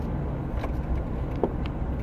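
A car that has been sitting in 99-degree sun drives along with a steady low engine and road rumble, with faint traffic around it and no talking.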